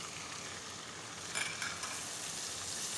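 Ginger garlic paste and cumin frying in oil for a Sindhi chicken and potato curry, a continuous bright sizzle with a brief louder crackle of stirring in the middle.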